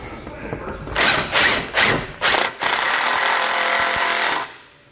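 Power tool running a bolt back into a base plate installation on a 2017 Chevrolet Colorado: four short loud bursts of rattling impact, then one sustained near whir that cuts off abruptly, with no talk over it.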